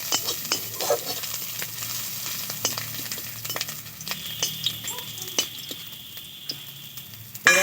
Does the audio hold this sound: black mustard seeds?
yes